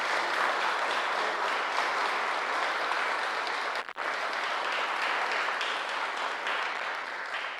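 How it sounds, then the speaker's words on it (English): A packed house applauds a retiring coach at a resolution presentation, dense sustained clapping throughout with one brief dip midway, no talk over it. "give a big round of applause."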